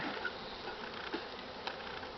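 A faint, steady buzzing of many honey bees hums in the background of an opened hive being smoked, with occasional soft clicks and taps as frames are moved.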